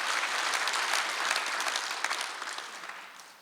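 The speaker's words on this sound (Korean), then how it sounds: "박수 한번 해주세요." A church congregation at a Korean Sunday worship service applauds together, a dense, even wash of clapping from many hands that holds steady and then gradually fades toward the end.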